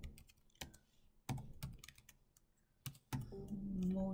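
Code being typed on a computer keyboard, with bursts of close, crisp key clicks in an uneven rhythm, separated by short pauses, and a faint hum at the end.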